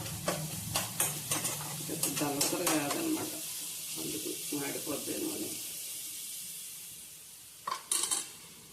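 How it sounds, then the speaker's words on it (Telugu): Onion and green chillies frying in a pan on a home stove while a spatula stirs them with scraping, clattering strokes over a soft sizzle. Tapping and louder clinks come near the end, and a voice talks in the background early on. "ఇలా మొత్తం దోరగా వేగాలన్నమాట ఉల్లిపాయ పచ్చిమిరపకాయలు వేసాను"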